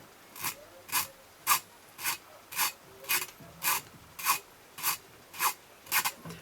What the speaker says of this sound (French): Et en somme, on lime.